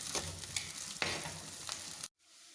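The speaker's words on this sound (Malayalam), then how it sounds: "ഇനി പച്ചമുളക്, കറിവേപ്പില, ഇഞ്ചി എല്ലാം കൂടി അങ്ങിടാം. ഇതൊന്ന് വഴന്ന് വരട്ടെ." Green chili, curry leaves and ginger sauté in a pan for a Kerala-style prawn curry, making a loud, close sizzle with stirring clatter before cutting off abruptly near the end.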